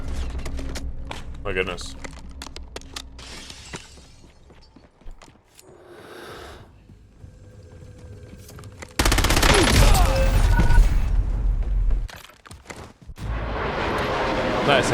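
In a Call of Duty Warzone solo match, rapid bursts of automatic gunfire crack loudly alongside sharp computer keyboard clicks, with heavy, sustained firing near the end and a man's brief spoken exclamation.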